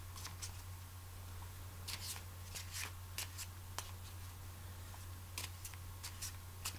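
Tarot cards are shuffled close up in a run of crisp, quick flicks and riffles, faint over a steady low electrical hum, with no talking.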